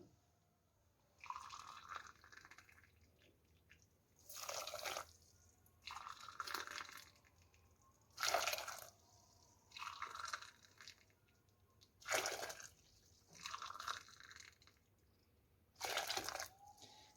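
Four cups of hot water pour into a cooking pot in separate bursts with quiet pauses between, splashing close by.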